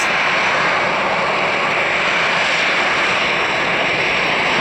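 Heavy jet airliner departing in a flight simulation game, a loud, steady broadband engine roar that holds constant throughout, with no voices over it.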